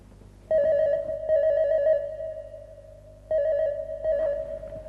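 Telephone ringing in two double bursts, each a bright electronic warble with a short pause between, clear and fairly close with no talking.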